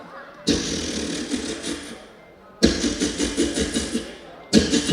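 A human voice imitates a scooter starting, with three raspy sputtering bursts separated by short pauses, loud and close like someone cranking the engine again.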